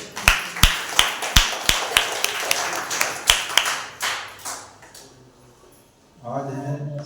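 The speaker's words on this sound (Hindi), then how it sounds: "एक बार इन नामों के लिए जोरदार तालियां हो जाए।" A church congregation claps during a Sunday service, sharp claps in a steady rhythm for several seconds that then thin out, followed by a voice speaking.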